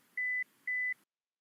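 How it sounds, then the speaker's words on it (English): An electronic buzzer on a cook's pole climbing apparatus for rats sounds two steady, evenly spaced tonal beeps of equal length, clear and alone over faint background hiss, then silence. "we will press the buzzer button"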